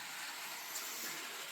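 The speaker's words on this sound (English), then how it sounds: "thanks very much for watching as this train goes by" A model train rolls along Kato track with grey ballast, making a steady, soft hissing whir at an even level, with no voices.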